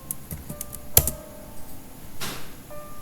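Typing on a computer keyboard while working in the Vim editor: a few quiet, scattered key clicks with short gaps and one sharper keystroke, heard close up with no talking.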